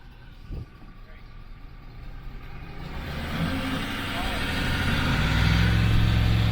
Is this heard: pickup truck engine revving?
yes